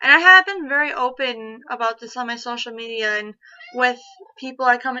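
A pet cat's high meows, loudest at the very start, break in among a person talking close and steadily indoors.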